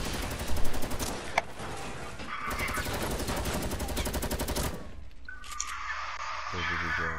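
A shooter game firefight with bursts of rapid gunfire that crack loudly early on and then settle into a sustained, mid-level rattle, while a voice talks over the action.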